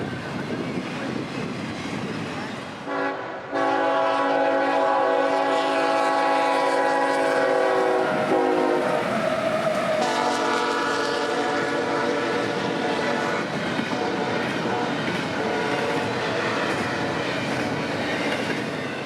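Peak-season intermodal freight train rolling in from the north, a loud sustained multi-tone horn blaring over the steady rumble and rail clatter of cars passing close by, the horn sounding in long blasts before the wheel noise carries on alone.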